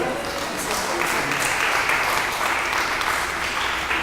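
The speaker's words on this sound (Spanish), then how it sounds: "Denle un aplauso al Rey de Reyes." A church congregation applauds during a sermon, dense continuous clapping at a steady level for several seconds, with some voices mixed into the crowd.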